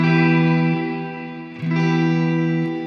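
An electric guitar played through a Strymon reverb pedal in normal mode rings out in sustained chords with a smooth, neutral reverb tail and no chorus shimmer, fading and then restruck once.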